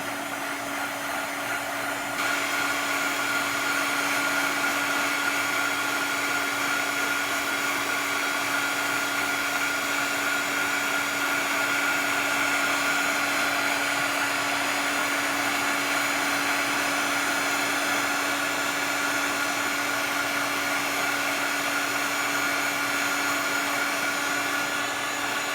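A heat tool used for heat embossing blows with a steady, loud whirring hum that runs unbroken from start to finish, with no talking.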